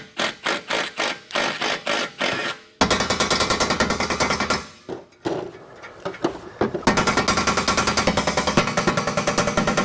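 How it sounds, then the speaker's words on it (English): Rapid metallic hammering on a Lexus IS300 upper control arm: a run of separate loud strikes, then fast continuous rattling blows with brief gaps, harsh and close. "Give me a hammer."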